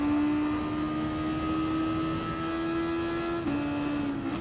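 Super Formula race car at Interlagos in GT Sport, its engine holding a loud, steady high-revving whine that dips briefly near the end as it shifts, then climbs again.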